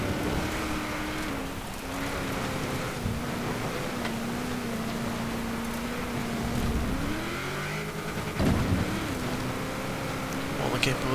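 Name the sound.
Forza Horizon 4 video game off-road car engine, Ford Bronco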